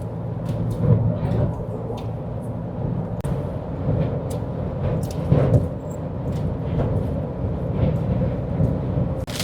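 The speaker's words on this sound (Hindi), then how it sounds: "बाहर ना तूफान आ रहा है, बहुत तेज हवा है।" Heavy wind roaring and buffeting steadily during a storm on the Delhi–Mumbai Expressway, with deep rumbling gusts and scattered sharp gust bursts; a loud, continuous stormy wash with no talking.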